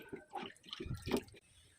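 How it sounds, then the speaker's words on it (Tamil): Water pours into a large clay cooking pot being prepared for first use, a brief, faint burst of splashing and gurgling that stops abruptly. "அது ஃபுல்லாகவே வந்து தண்ணி ஊற்றி அப்படியே நான் வச்சிட போகிறேன்"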